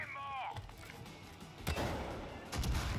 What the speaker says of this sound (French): Wow, l'explosion que ça a fait.